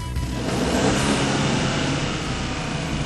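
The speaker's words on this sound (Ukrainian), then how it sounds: "послухайте, як звучить цей двигун" A turbocharged three-cylinder one-litre Ford EcoBoost petrol engine runs steadily, loud and close, holding a fairly even pitch throughout.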